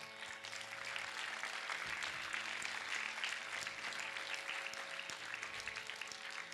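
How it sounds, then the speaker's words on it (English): Audience applause fills a hall at the Sangeet Symphony 2015 music event: dense, steady clapping from a large crowd that holds at an even loudness for the whole stretch, with no voices over it. "please put your hands together for Renuka"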